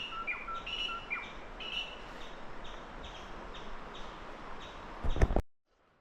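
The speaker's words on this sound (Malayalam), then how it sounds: "നല്ല കിളികളുടെ കളകളാരവമൊക്കെ" Birds chirp in quick repeated calls over a soft outdoor hiss, with a river flowing below, at Mathayipara near Upputhara in Kerala, ending with a brief thump before falling silent.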